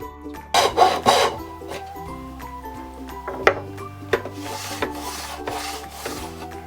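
A hand saw cuts a wooden board for dovetail pins and tails, with rasping strokes against a guide block, louder at first then lighter and uneven, close by with no talk.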